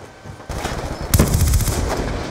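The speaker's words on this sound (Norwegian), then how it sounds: "Oi, han sniper meg" Gunfire in Black Ops 2 on PC, a loud close shot cracking out after a quieter start, followed by sustained rapid firing and game noise.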